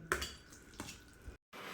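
A spoon clinks and scrapes against a pot as cooked dal is whisked with turmeric and salt, with a few sharp metallic taps and a short silent gap.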